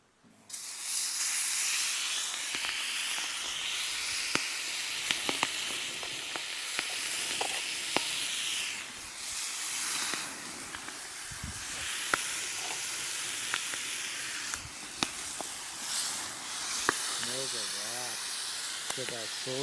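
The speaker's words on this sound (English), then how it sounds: "I'm going to go straight on the hot plate. I'm going to baste them in a barbecue honey sauce." Pork knuckles basted in barbecue honey sauce sizzle steadily on a camp hot plate, a continuous close hiss with small pops and clicks, while people talk now and then.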